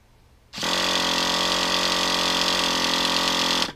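A Traxxas Slayer Pro 4x4 nitro RC truck engine fires up after half a second of quiet, then runs at a loud, steady, buzzing high idle right up close until the end.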